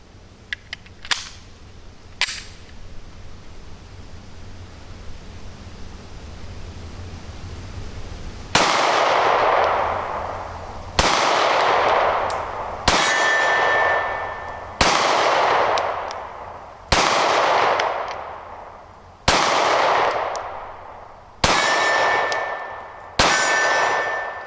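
A Springfield Hellcat 9mm micro pistol fires 124 grain ammo: eight loud, sharp shots spaced about two seconds apart, each with a ringing tail, after some faint clicks and handling noise.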